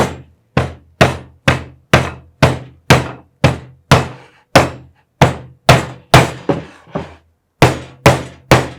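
Hammering nails into a wooden DIY tool box: a steady run of sharp, loud hammer strikes about twice a second, close up, with a brief pause partway through and no talking.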